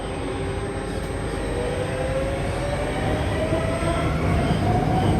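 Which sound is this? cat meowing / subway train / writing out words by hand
subway train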